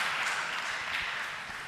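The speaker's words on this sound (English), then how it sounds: "Give him a big round of applause." Audience applause at a youth workshop held by a public administration department: steady, dense clapping that fills the room at a constant level throughout, with no voices over it.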